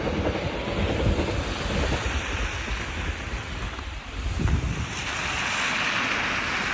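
Train passing near a rail line, a broad rushing rumble with rattling and wind-like noise that holds steady throughout, with no voices.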